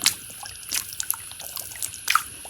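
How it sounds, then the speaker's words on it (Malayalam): Light water splashes and drips come in a few brief bursts, close by, with quiet gaps between them. "വെള്ളം വെള്ളം തെളിപ്പിച്ച് കളിക്കുന്നു"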